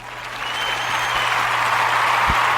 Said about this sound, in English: Round of applause, man.